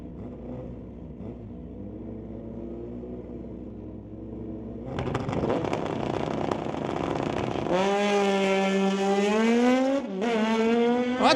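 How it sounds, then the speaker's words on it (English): A 2008 Kawasaki lines up against a heavily modified ZX-19 motorcycle for a street-legal drag race at Mission Raceway Park: a low idling rumble bursts into a loud launch, and engine pitch climbs steeply through the gears, dipping at a shift. "Ralph Steen, a 2008 Kawasaki going up against a heavily modified ZX-19"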